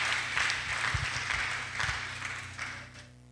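A church congregation applauds together in a dense, even clapping that swells and then tapers off over a few seconds, heard from within the room.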